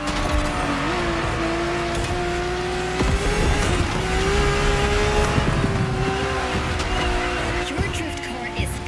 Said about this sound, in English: Your drift car is powerful as hell.